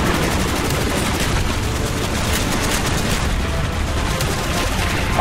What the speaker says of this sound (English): Coming in for strafing run.